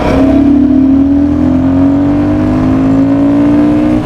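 A Royal Enfield Guerrilla 450, a 450 cc motorcycle on a test ride, revs up loudly and close by, its engine tone climbing steadily in pitch for several seconds.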